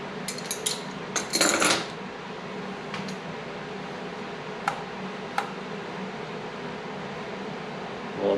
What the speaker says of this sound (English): We'll break the lock nut free.